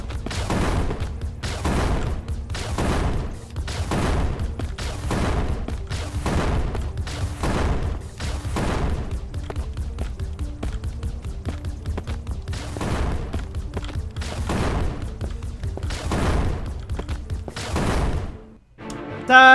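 Rapid, dense explosions and gunfire-like blasts from the video game Crystal Defense, a continuous barrage of heavy booms pulsing roughly every second over a rumbling low bed, loud and sustained, cutting off near the end.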